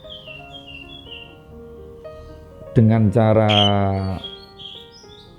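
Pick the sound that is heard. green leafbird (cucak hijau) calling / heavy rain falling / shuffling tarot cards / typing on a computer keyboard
green leafbird (cucak hijau) calling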